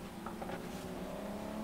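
A big V12 in an old 1990 car in Forza Horizon 3 holds a steady, deep, humming drone, close and even, with no clear revving.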